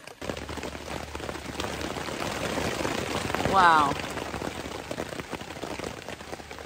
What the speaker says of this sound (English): That's some rain.